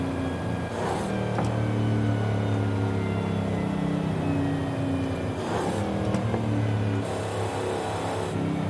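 A 1969 Dodge Charger Daytona revs hard at maximum RPM in a racing video game, a steady loud engine drone with rising surges and brief whooshes layered over it, no voices.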